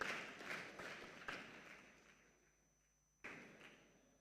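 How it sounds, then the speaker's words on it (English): Audience applause at a tech conference in Africa fades steadily from a dense patter to near silence, then a single dull thump lands near the end. "Let's keep clapping."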